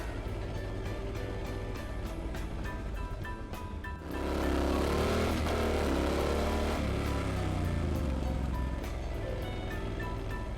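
A motorcycle rider brakes, then releases and accelerates away, the engine quiet at first before surging into a loud rising rev that holds strong for several seconds, close by with no talking.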